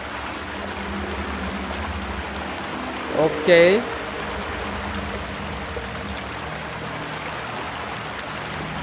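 Fast-flowing river water rushes steadily in the video game Outlast 2, a broad, constant wash heard from a raft. Someone briefly speaks over it once.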